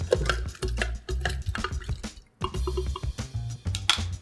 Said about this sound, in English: One more good stir.